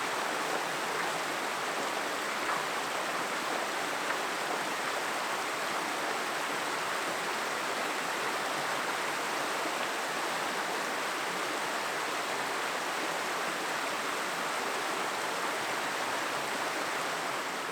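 A canyon stream pours over waterfalls into big pools, a steady, close, broadband rush of water that holds even and unbroken throughout, with no voices.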